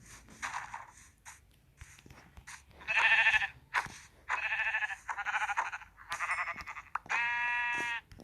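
Several sheep in Minecraft bleat one after another, close and fairly loud, with short quiet gaps and faint clicks between the calls.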